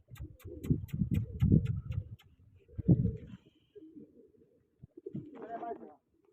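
Pigeons cooing in a pigeon-flying contest setting, low throaty coos at the start and again later, with a faint ticking pattern and some scattered noises between them, fairly close.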